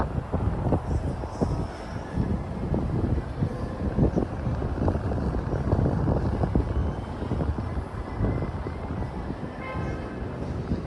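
Strong wind gusting along a city street on the Upper East Side of New York, a steady low roar buffeting the microphone for the whole stretch, loud and continuous with rumbling swells.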